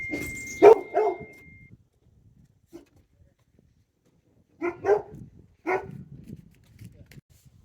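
A dog barks a few times in short bursts, with quiet pauses between the barks and faint background noise.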